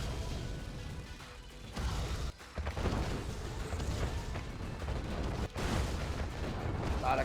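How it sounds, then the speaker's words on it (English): Repeated booms of cannons in a real-time strategy game battle, heavy irregular blasts and crashes layered into a dense, moderately loud barrage with short drops between volleys. "A lot of cannons."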